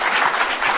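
Studio audience applause at an Indonesian political talk show, a dense, steady wash of many hands clapping at close range with no voices over it, ending abruptly.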